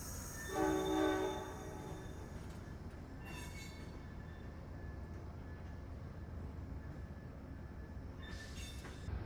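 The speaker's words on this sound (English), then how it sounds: "There was some freight activity going on in the yard next to us." A steady low rumble of freight cars in a rail yard, with a faint high squeal of wheels and distant clanks.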